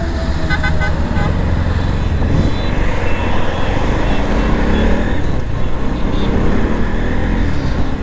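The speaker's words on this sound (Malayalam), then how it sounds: "ജസ്റ്റ് ഒന്ന് വണ്ടി ഓടിച്ച് നോക്കിയിട്ട് വരാം" A Bajaj Pulsar NS200 motorcycle fitted with an RCB handle is ridden in traffic, its engine a steady loud drone close by, with horn toots and other vehicles passing around it.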